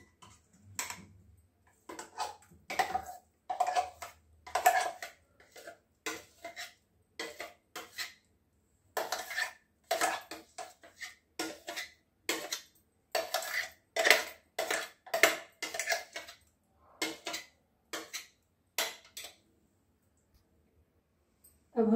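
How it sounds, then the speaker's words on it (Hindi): Ground sago batter being scraped from a grinder jar into a bowl, with a long run of close, steady metallic clinks and taps of a spoon against the container. "अब हम इसको निकाल लेते हैं एक बाउल में।"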